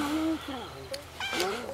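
A cat meows several times in short, rising and falling calls, close by and mixed with nearby talk, in a home setting in Ukraine.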